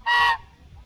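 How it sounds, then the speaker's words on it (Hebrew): A goose at a lookout spot in Thailand gives a single short, loud honk close by, followed by quiet. "יש פה אווזים, ברווזים, לא יודע איך קוראים להם."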